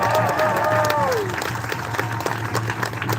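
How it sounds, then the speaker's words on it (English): Outdoor protest rally crowd claps and cheers loudly, a dense roar of applause mixed with voices and a brief whistle-like tone, close and continuous. "So give yourselves a round of applause."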